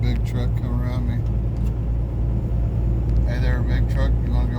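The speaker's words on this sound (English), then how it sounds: "I got a big truck coming around me." A big truck passes close on a road near a snowplow, its deep engine rumble steady and loud beneath people talking.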